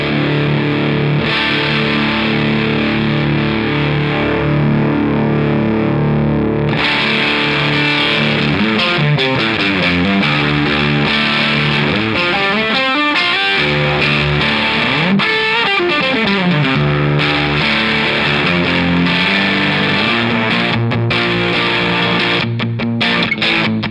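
An electric guitar plays through a Catalinbread Dirty Little Secret Deluxe distortion pedal emulating a Marshall amp, producing a thick, saturated, crunchy tone with sustained chords and fast riffs, loud and continuous with no talking.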